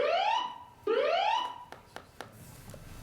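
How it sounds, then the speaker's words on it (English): A building fire alarm during a legislative committee hearing, sounding as two loud rising electronic whoops in a row, followed by fainter tonal beeps and blips as the second sweep fades. "There has been a fire alarm reported in the building."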